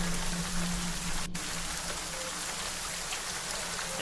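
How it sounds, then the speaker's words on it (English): Steady rain from a storm patters continuously on surfaces at a moderate, even level, with a brief sharp click partway through and no talk. "it is raining quite a storm out there"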